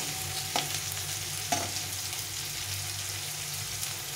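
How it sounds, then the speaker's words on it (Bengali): Thickly sliced onions fry in a pan with a steady, even sizzle, broken by two sharp spoon scrapes early on, heard up close with no talking. "আর এখানে পেঁয়াজটা ভাজা হয়ে গেছে, অনেকটা ভাজা হয়ে গেছে।"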